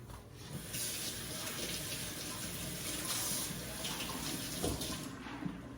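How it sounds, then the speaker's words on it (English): Tap water runs steadily into a kitchen sink while fresh vegetables are washed under it, a continuous close hiss and splash with no talking. "So these right here, we're gonna wash them and then take off the parts that we do not need,"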